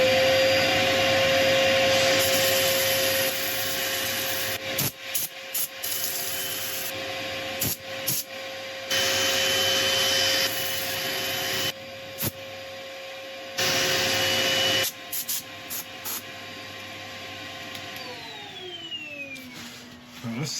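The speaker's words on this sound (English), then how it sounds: "The next step is sanding." Sanding a woodturned bowl made from three combined materials, a steady rubbing hiss on the spinning lathe that runs almost continuously with brief breaks and a lathe motor hum underneath, close and moderately loud.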